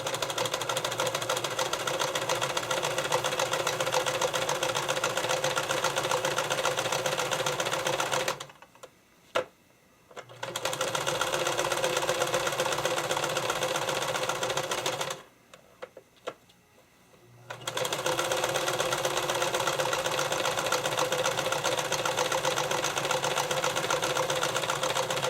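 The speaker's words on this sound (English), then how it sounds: "I'm going to zigzag the edge to hold them together and finish it off a little bit" A sewing machine runs a zigzag stitch along a fabric edge, a loud, fast, even mechanical rattle close by. It stops twice for a second or two, then starts again.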